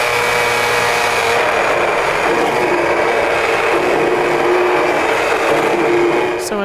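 A Waring immersion blender whirs steadily as it purees picante sauce. The motor gives a loud, continuous, gritty buzz up close, with no talking.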